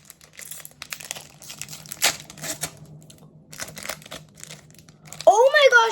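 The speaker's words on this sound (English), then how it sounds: "Now I'm going to open my pack." Crinkly rustling and tearing of a Pokémon Paradox Rift trading card pack wrapper, soft scattered crackles followed by a sharper, louder crinkling burst near the end, with no talking.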